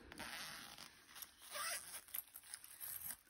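A zipper slides open on a diaper bag pocket, several close, crisp rasping pulls of varying length with faint rustling of fabric in between, quiet and nearby.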